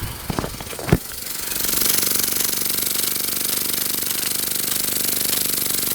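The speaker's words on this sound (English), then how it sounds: "Your little engine running on steam." A Microcosm M22 micro steam engine running on steam, a rapid, even mechanical chatter that starts after a few knocks and carries on steadily, close and fairly loud, with no talk.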